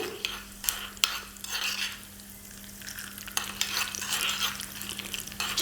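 Chana dal fries in a pan with a steady close sizzle, while a utensil scrapes and stirs in irregular strokes with occasional sharp taps against the pan, no talk.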